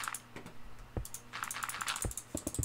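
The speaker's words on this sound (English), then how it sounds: "I was clicking sporadically" Sporadic computer mouse clicks during a Minecraft single-player survival game, a handful of sharp, close taps at an uneven rhythm with no one talking.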